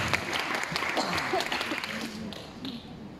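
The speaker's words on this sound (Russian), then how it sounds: "Давайте похлопаем Давиду еще раз." A stand-up comedy audience at Timebiz Malibu breaks into full, close applause that gradually thins and softens, with a voice beginning to speak as the clapping dies down.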